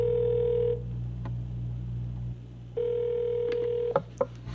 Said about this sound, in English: Let me give him a call real quick.